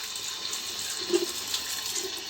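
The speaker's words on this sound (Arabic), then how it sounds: "نفتح المية بتاعتنا كده واحدة واحدة كده ونغسل حلو" Tap water runs steadily into a kitchen sink while tomatoes are washed for tomato sauce, a continuous soft hiss and splash with small bumps of handling, no voices.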